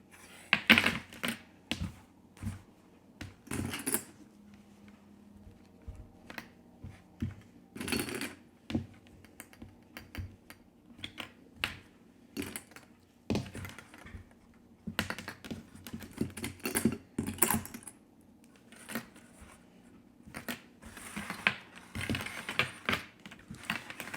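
A sewing machine stitching scrub caps runs in irregular short bursts of rapid mechanical clatter, stopping and starting repeatedly, close and fairly quiet between the runs.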